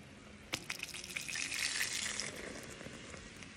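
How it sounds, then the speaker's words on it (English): Hot homemade sugar wax pours from a pot, a continuous close gushing, bubbling liquid sound with a few soft knocks at the start, no talk. "I'm about to pour it."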